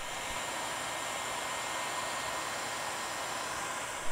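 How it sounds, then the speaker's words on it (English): Heat gun blowing steadily to shrink heat-shrink tubing over wire connections in a Toyota Sienna radio harness, a constant close, loud airy hiss throughout with no talking. "we're gonna shrink them down with a heat gun"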